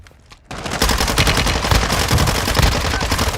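Call of Duty: Warzone gunfire in a Vondel Resurgence match: after a brief quiet moment, loud sustained automatic fire erupts, with dense rapid shots continuing without a break.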